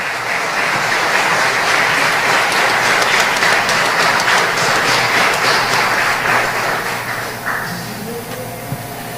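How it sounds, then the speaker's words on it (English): Audience at an award ceremony honoring patriots gives a sustained, loud round of applause, steady throughout and tapering slightly near the end. "Once again, another round of applause."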